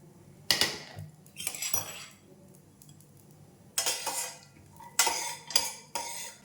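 Cashews roasting in ghee in a pan for rava kesari, heard as several sharp metal spoon scrapes and clinks against the pan in bursts with quiet gaps between, the sizzle faint underneath.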